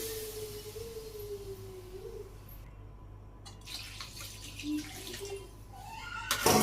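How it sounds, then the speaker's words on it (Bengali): Water is poured into a pot of chicken curry cooking in a village kitchen, a soft splashing pour rising briefly over steady background noise and a low hum. "জল দিয়ে দিলাম পরিমাণ মতো"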